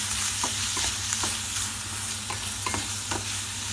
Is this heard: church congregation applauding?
no